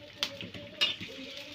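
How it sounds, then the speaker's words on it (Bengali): Fried rohu fish pieces dropped into a simmering curry give two short sizzling bursts over a steady low bubbling hiss, close and fairly quiet. "ভেজে রাখা মাছগুলো দিয়ে দিলাম।"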